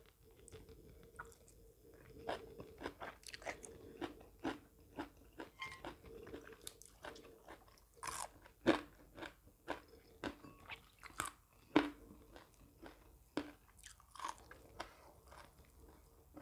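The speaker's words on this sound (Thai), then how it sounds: "เวลากินอันหมูแดดเดียวเนื้อแดดเดียวเนี่ยมันจะต้องค่อยๆกินค่อยๆย" Crunchy bites and chewing of fried sun-dried pork, with sharp, irregular crunches at close range against a quiet background, growing more frequent toward the middle.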